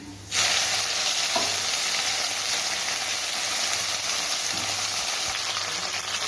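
Jute leaves hit hot oil with chopped garlic in a pan, setting off a sudden loud sizzle that holds steady and bright with occasional stirring knocks, close and continuous.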